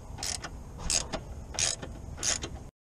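A ratchet wrench unscrewing a 13 mm bolt on a BMW 3 Series headlight ballast gives four short, close bursts of clicking, evenly spaced, with no talk.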